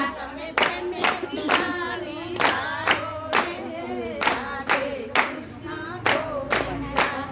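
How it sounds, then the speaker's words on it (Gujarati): Rhythmic hand clapping at a devotional Radhe Krishna Govinda bhajan, about a dozen sharp claps at a steady beat, with a singing voice and harmonium-like tones running underneath. "તમે પ્રેમેથી તાળી પાડો રે રાધે કૃષ્ણ ગોવિંદા"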